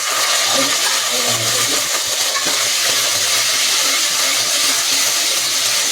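Chopped brinjal, okra and tomato sauté in a pan, a steady, loud sizzle and frying hiss that runs without a break from start to finish, with no voices.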